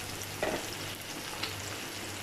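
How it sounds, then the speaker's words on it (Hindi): Onions, tomatoes, capsicum, carrots, cabbage and peas stir-fried in a pan for chicken fried rice, giving a soft, steady sizzle with brief scraping stirs near the start and middle, no voices. "और अब सारी वेजिटेबल्स को करेंगे अच्छे से मिक्स और थोड़ा सा कर लेंगे फ्राई"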